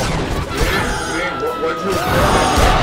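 A tank drops and crashes down in a Roblox game, giving a dense, sustained smashing roar under ongoing talk.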